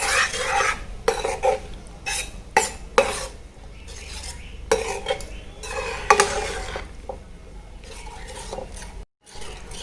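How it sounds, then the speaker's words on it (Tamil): A spoon scrapes and clatters against a metal pan in repeated stirring strokes while mixing pav bhaji vegetables, with a faint sizzle underneath and no talking. "எல்லாத்தையும் நல்லா மிக்ஸ் பண்ணிக்கோங்க."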